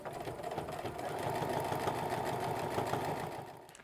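Sewing machine backstitching and stitching along an apron strap, a steady, loud mechanical whir with rapid rhythmic needle clatter running continuously for several seconds before easing off.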